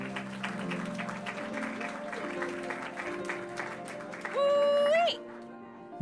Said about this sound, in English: wait until like the applause has died down and then be really loud